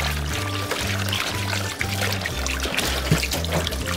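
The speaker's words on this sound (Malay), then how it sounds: "cuci semua bersih" Water pours and trickles steadily while squid is washed and rinsed, a close continuous splashing stream with small surges and no talking.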